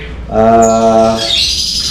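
A single loud white-rumped shama call, a harmonic squawking note lasting about a second, close by, trailing into fainter high chirps.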